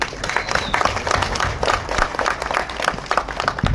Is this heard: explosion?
no